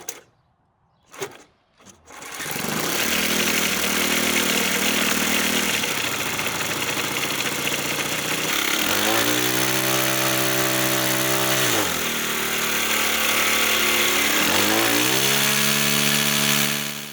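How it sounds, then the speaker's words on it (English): A rebuilt nitro RC model engine for a P-40 model plane sputters through a few quick cranks, then catches and runs steadily and loudly, its pitch rising and dipping as the throttle is blipped a few times. "This engine literally jumped back to life after just a couple rotations, and honestly, it sounded and ran great with just some minor adjustments."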